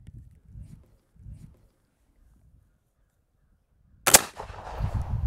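A flintlock muzzleloader fires once as a single sharp, loud report, followed by a rumbling decay; quiet low sounds come before it.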